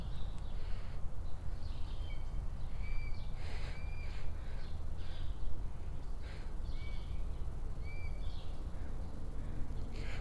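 Hawk at its nest giving sharp, loud whistling calls in short repeated bursts over a steady outdoor background rumble.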